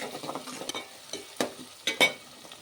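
Chopped onions fry in a pan for a village-style bottle gourd and tomato curry. A soft steady sizzle runs underneath while a spoon scrapes and stirs in several clear strokes.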